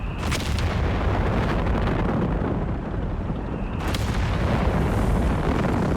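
An off-map artillery barrage pounds down in Company of Heroes 3, a dense, continuous roar of booming explosions that overlap and rumble loudly throughout, with sharper blasts cutting in near the start and again toward the end.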